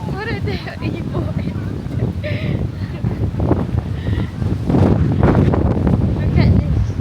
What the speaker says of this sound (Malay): Kuatnya angin.